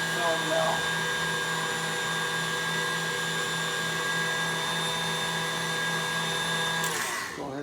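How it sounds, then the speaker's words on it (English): An electric meat grinder runs steadily as bread passes through it, a loud, constant motor drone with a steady hum, then it cuts off abruptly at the end. "Go ahead and shut the grinder off now."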